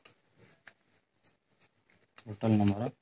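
Faint scratchy strokes of a formula being written on a board come in short, separate bursts, then a person begins speaking loudly over them.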